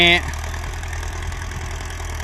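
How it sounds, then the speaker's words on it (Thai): A steady, low Ford 7740 tractor engine idles continuously and close by, with a brief tonal sound at the very start. "เสียงคลิปนี่ เสียงรถไถนี่"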